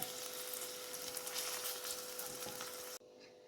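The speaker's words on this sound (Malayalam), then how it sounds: "നമുക്ക് ചെറുതായിട്ടൊന്ന് ഫ്രൈ ചെയ്താൽ മതിയാകും" Paneer frying lightly in hot oil, a steady close-up sizzle that crackles evenly throughout, then cuts off abruptly near the end.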